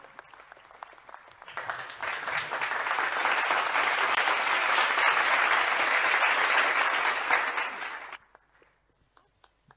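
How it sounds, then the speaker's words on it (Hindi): An audience at a tech growth conclave in Indore breaks into loud, sustained applause that swells after a quiet start, holds for several seconds, then stops abruptly, leaving near silence. "चलिए सब जोरदार ताली बजाइए इंदौर के लिए"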